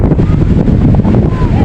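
Strong northeast monsoon wind buffets a small fishing boat at sea off Palawan, a loud, dense roar of gusts against the microphone with low rumbling beneath, while someone talks.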